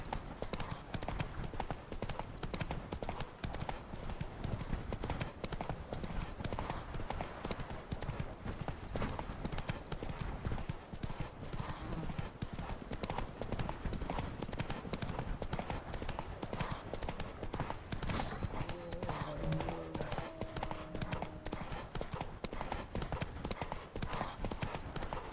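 Roach the horse from The Witcher 3 trotting with steady, close clip-clop hooves throughout, a continuous rhythmic patter with a brief whinny-like tone and other game sounds partway.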